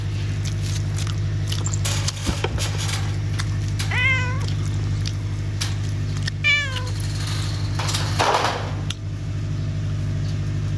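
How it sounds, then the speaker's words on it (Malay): A cat meows twice, close by, in short rising calls over a steady electrical hum, with scattered small clicks and knocks of someone eating nearby. "Kucing kacau aku."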